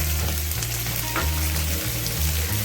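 Onion, carrot, finely chopped cabbage and chilli stir-fry for veg hakka noodles, giving a loud, steady, close-up sizzle over a low rhythmic hum with no speech.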